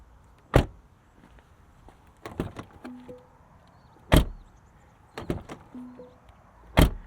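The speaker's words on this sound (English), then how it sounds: "And listen to this door closing sound." The doors of a 2024 Mercedes-Benz E450 W214 E-Class close with three solid, sharp thuds spaced a few seconds apart, with softer latch clicks and a short motor whir between them.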